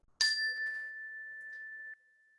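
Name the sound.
a bell rung once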